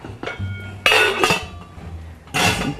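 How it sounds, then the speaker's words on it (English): Boiled eggs going into a bowl of ice cubes and water, giving a few sharp clinks and clatters against the bowl in separate bursts, close and fairly loud. "we're going to drain the hot water off and put them in an ice bath"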